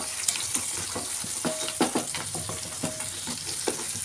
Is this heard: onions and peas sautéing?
yes